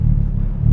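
A 2023 Hyundai Elantra N engine rumbles low and steady on a brief stretch of a test drive, with a deep continuous drone and no talk.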